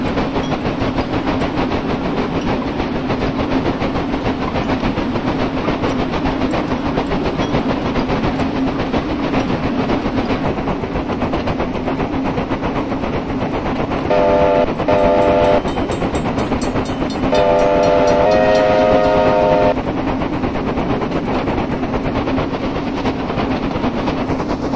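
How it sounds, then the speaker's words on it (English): New Zealand JA class steam locomotive in Train Simulator, a steady loud chuffing and rumbling run with no talk, joined by two bursts of steam whistle, a short one followed by a longer one near the end. "I will drive this train until I either break it, blow it up, derail it, or come to a full stop and can't get going again"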